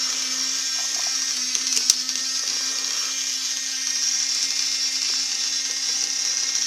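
The twin drills of a Bakuryu Ankyloveilus action-figure toy spin together during its finisher attack, giving a steady high motorized whine that runs unbroken with a few faint clicks, close up and with no voices.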